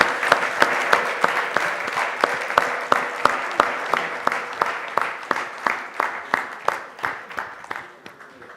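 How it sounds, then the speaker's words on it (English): Audience applause at a Rotary Club of Madras Central auction gathering, a few hands clapping in a rhythmic, evenly spaced beat, moderately close, sustained for several seconds. "Give him a round of applause,"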